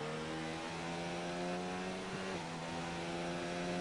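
A Red Bull Formula 1 car engine in the F1 2019 video game at Silverstone holds a high, steady whine at near-constant revs, loud and unbroken, with a brief pitch dip midway.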